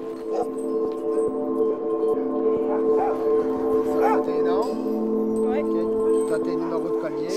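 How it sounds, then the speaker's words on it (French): Sled dogs bark, yip and whine excitedly in a continuous chorus, several animals at once, loud and close, with voices mixed in among the din. "ça jappe, ça jappe, ça jappe, tu t'entends pas parler"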